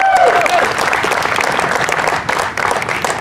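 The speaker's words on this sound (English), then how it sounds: "So if everybody would just give them a big round of applause for everything they do." An audience at a community Day of Caring kick-off event claps in a burst of applause, loud and dense at first, then gradually thinning and fading.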